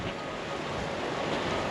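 Strong gusting wind buffets the microphone outdoors on a very windy day at a house under construction, a steady roaring rush with low rumble that swells slightly toward the end, with no voices.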